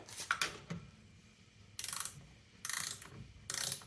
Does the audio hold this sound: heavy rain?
no